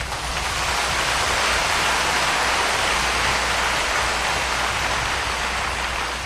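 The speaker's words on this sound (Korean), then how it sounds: "단비가 내리고 있습니다." Steady rain falling during an outdoor revival meeting in Jecheon, a dense, unbroken hiss that stays loud and even for the whole stretch, with no voices.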